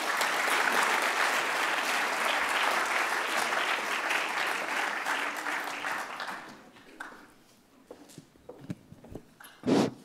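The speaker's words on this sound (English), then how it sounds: "And I would like you to have a round of applause for yourself because you're so great for being there tonight." A conference plenary audience gives itself a dense round of applause that holds steady for about six seconds, then thins into scattered claps and rustling with a few louder bumps near the end.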